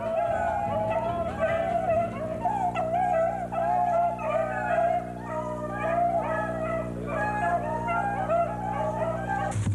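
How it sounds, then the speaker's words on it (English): Beagles on a rabbit hunt, several dogs baying and yelping in overlapping rhythmic bursts at moderate distance against a steady low outdoor hum. "The beagles are on what we call a check right now."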